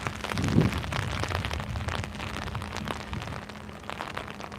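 Cold rain patters outdoors in a soft, steady wash of drops, faint and diffuse. A brief low thump comes near the start.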